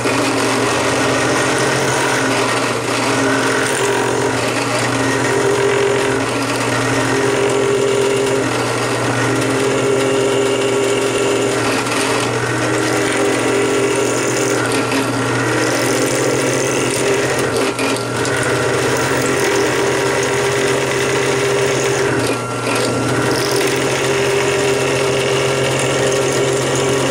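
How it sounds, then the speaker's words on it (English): A drill bores out a broken tap with cutting oil in a metal workpiece, giving a steady, loud, continuous machine whir that holds for the whole stretch with only slight wavering. "it's drilling, but it's going a little bit off center."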